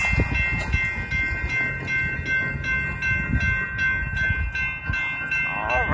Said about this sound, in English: got a BNSF coming on down the track.